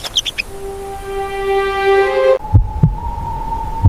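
Heartbeat sound effect in a desert wildlife documentary, a few deep low thumps arriving after a sustained tonal hum, close and prominent with no voice over them.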